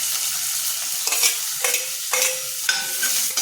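Loud steady sizzling of chopped shallots frying in hot oil, with occasional scrapes and clinks of a utensil stirring the pan.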